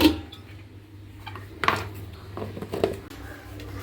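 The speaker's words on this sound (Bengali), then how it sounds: "এখন একটু নাড়াচাড়া করে দিই।" Tilapia and bitter gourd curry stirred in a pot, a few scattered clinks and scrapes of a spoon against metal over a low background hum, fairly close.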